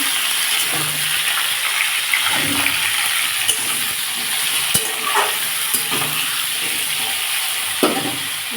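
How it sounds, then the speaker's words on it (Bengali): Potatoes and tomatoes drop into hot oil tempered with black cumin and chilli, giving a steady sizzle and frying hiss with occasional spoon-on-pan scrapes and clinks throughout. "জিরে আর লঙ্কা ফোড়ন দিলাম আলু আর টমেটো দিয়ে দিচ্ছি"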